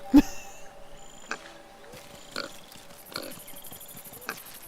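Game-style pig oink sounds in the video game Adorable Adventures, a handful of brief chirpy bursts spread over a few seconds alongside faint tonal game effects.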